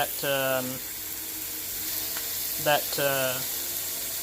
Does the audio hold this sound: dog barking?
no